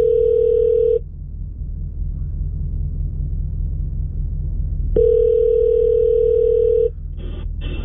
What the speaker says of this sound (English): Let's see if we can get Bo on the phone